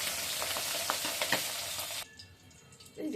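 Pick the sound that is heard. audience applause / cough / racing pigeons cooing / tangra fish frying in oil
tangra fish frying in oil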